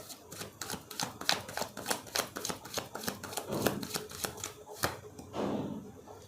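Tarot cards are shuffled and drawn in a rapid series of crisp flicks and riffles, with a soft voice speaking quietly in the background.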